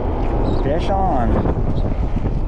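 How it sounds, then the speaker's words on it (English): Strong wind of around 25 buffets the microphone while fishing for clown knifefish, a steady, loud low roar throughout with a brief voice-like sound near the middle. "Wind is blowing really hard. It's blowing like 25."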